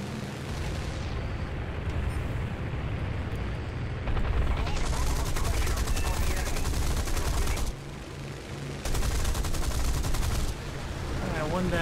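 Aircraft cannon and machine-gun fire in War Thunder, long dense sustained bursts over a constant engine roar, stopping briefly and resuming, with faint talk under it.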